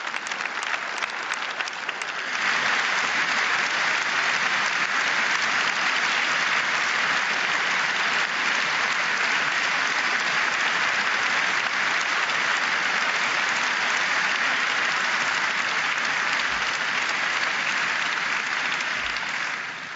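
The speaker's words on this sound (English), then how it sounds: "Such an applause" A large hall audience at the Daimler AG annual general meeting breaks into sustained applause, a broad, steady roar of clapping that swells in after a brief start and holds evenly to the end.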